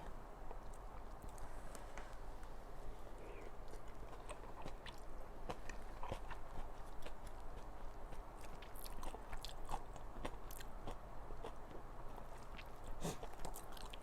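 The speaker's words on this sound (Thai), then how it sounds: "กินอันนี้หน่อย ขนมกุ้ยช่าย แป้งบาง แล้วก็น้ำจิ้มเขาอร่อย" Someone eating thin-skinned Thai chive dumplings (kanom gui chai) with dipping sauce. Soft, faint chewing and biting sounds sit close over a low, steady room hiss, with no talking.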